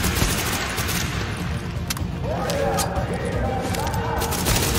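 An enemy turret in The Division fires rapid bursts amid combat noise and explosions, continuous and loud, with players talking over the shooting.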